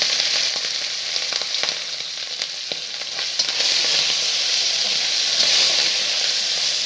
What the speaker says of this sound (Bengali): এবার কিছু চিংড়ি মাছ দিয়ে দিচ্ছি, ভেজে দেবো চিংড়ি মাছ।